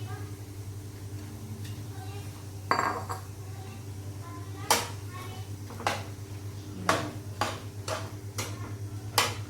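Washed lentils clatter into a steel cooking pot in a home kitchen, a run of sharp metallic clinks and knocks over a steady low hum, with a few quieter taps in between.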